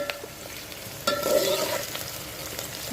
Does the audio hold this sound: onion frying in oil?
yes